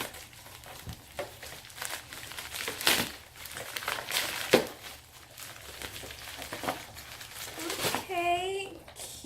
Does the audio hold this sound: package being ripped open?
yes